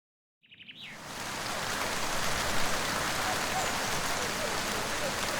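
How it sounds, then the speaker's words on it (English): After a brief silence and a few chirps, steady rain sets in, a dense, even hiss of falling drops that continues throughout. "it's raining."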